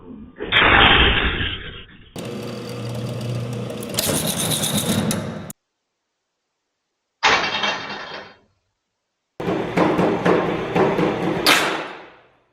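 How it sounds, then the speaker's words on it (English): Loud bangs from a garage door torsion spring snapping violently, with sharp cracks, scraping and metallic clatter in bursts separated by silent gaps. "That loud explosion you're hearing? That's hundreds of pounds of stored tension releasing instantly."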